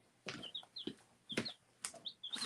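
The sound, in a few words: baby chickens chirping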